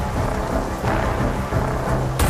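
Thunderstorm in Bombay during a movie scene: heavy rain pours continuously while low thunder rumbles beneath, with a sharper crack near the end and no speech.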